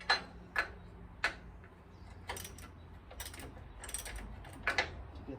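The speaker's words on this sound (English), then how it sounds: "They are bolts and nuts, so you got to use a wrench on the inside." Wrench ratcheting on nuts and bolts holding the steering box to the frame of a 1956 Chevy truck, a series of short metallic clicks and ticks spaced irregularly, close and fairly quiet.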